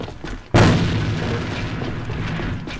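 A sharp, loud grenade blast in Alliance of Valiant Arms at about half a second, with a booming tail and game ambience fading over the next two seconds.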